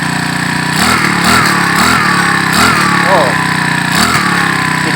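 A small Makita GX35 brush cutter engine idles with a steady buzz, then revs up in several quick bursts, loud and close throughout.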